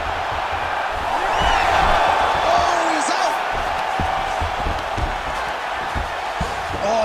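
Arena crowd in the UFC 5 fighting game cheering steadily as two fighters rise back to their feet after a long grappling exchange, a continuous roar with some swells, with commentators talking over it.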